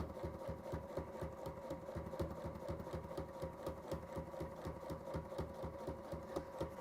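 A sewing machine stitches with white thread at a steady fast pace, its needle thumping in an even rapid rhythm, faint and close, continuing for several seconds without any voices.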